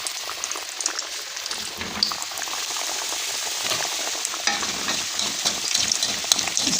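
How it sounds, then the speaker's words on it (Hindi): Aloo chicken samosas deep-fry in hot oil with a continuous bubbling sizzle, close and steady, dotted with small crackles and no voices. "अब हम इनको फ्राई कर लेते हैं जी। तो इनको हम फ्राई कर लेंगे।"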